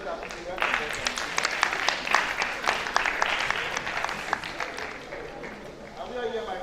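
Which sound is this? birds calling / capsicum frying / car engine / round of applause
round of applause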